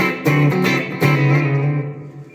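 A Yamaha Pacifica PAC112V electric guitar on its humbucker pickup through a clean amp channel rings out a few strummed chords that sustain and slowly decay, no voices present.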